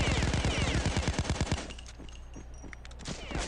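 Rapid automatic gunfire from the mobile heist shooter PAYDAY Crime War, a fast burst of about a dozen loud close shots followed by scattered faint in-game noises and a steady low hum.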